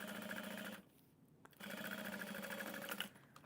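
A sewing machine top stitches a tote bag with a half-inch seam allowance, running in two close, steady bursts separated by a short pause.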